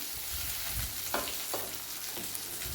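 Okra and tomatoes sauté in a hot pan for a Gujarati bhinda shaak, giving a steady close sizzle with a few brief stirring scrapes, and no one talking.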